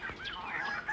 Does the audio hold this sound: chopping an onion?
no